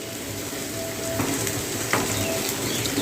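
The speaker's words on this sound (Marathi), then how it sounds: "आणि चांगले असे हलवून घेऊया कोथिंबीर चांगली अशी मिक्स करा भाजीला" Bitter gourd curry being stirred in a pan after fresh chopped coriander goes in, a steady soft sizzle with scraping spoon strokes and a couple of sharper clinks against the pan.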